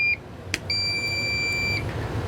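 Two electronic beeps from a toy hauler awning remote switching on: a short high chirp, a click, then a longer steady high-pitched tone lasting about a second, over quiet background hum.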